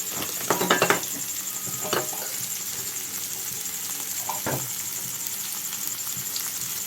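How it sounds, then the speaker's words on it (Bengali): Vegetables with chili, turmeric, cumin and coriander powders fry in a pan with a steady close sizzle. A few scraping stirs and clinks of a spoon against the pan cut through it. "এই যে আমার সবজি পুরো একদম লাল লাল হয়ে ভাজা হয়ে গেছে"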